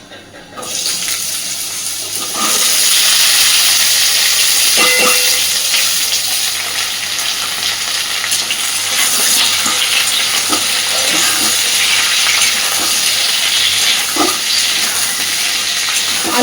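Strips of potato and pointed gourd dropped into hot oil with nigella seeds, giving a loud, continuous sizzle with occasional clinks and stirring noises throughout.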